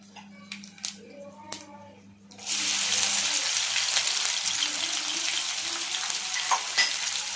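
A spice tempering of dried red chillies and crushed ginger-garlic crackles and sizzles loudly in hot oil in a pan, a dense steady fry that starts abruptly after quieter clinks and continues with scattered pops.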